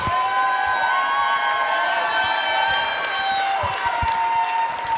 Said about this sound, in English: please put a big round of applause together for both of the fighters in this cage.